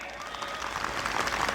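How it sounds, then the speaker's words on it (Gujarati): Audience applause at an Indian wedding sangeet, a dense continuous clatter of many hands clapping together, steady and fairly close throughout, building slightly louder toward the end. "પણ તાળી પાડવાની છે જોરદાર"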